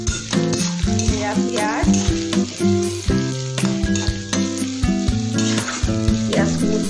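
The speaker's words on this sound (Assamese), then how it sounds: "পিঁয়াজখিনি প্ৰথমে ৰঙা কৰি ভাজি যাওঁ" Onions fry in a pan as the start of a chicken pulao, keeping up a loud, continuous sizzle throughout beneath a melodic background.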